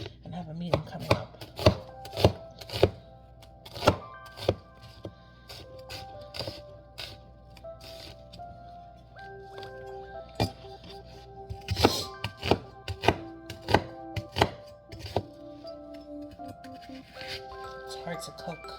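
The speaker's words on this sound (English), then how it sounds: "some garlic and some onion and also chop up my green onion" Garlic, onion and green onion are chopped on a cutting board for fried rice, with rapid, loud knife thuds in bursts close by, a voice talking over parts of it and background music running underneath.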